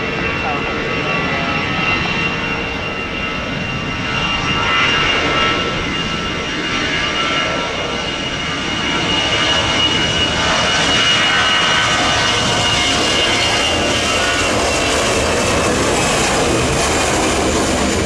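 Garuda Indonesia jet airliners arriving at Solo airport, a loud, sustained roar of jet engines with broadband rush and a slowly rising pitch as the aircraft pass close by, continuous throughout.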